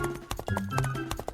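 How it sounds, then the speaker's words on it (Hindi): Horse hooves clip-clop in a quick, uneven rhythm, close and fairly loud, as two riders arrive on horseback before a large rock in a Hindi story, with a few brief snorts or scrapes in between. "वहाँ पक्षियों की चहचहाहट से ज्यादा घोड़े की टपटप की आवाज सुनाई देती है।"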